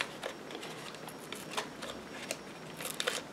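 Scissors snip around a round paper shape for a Christmas bauble, giving faint, irregular close-up clips and rustling paper scrapes spread through the moment, with no talking.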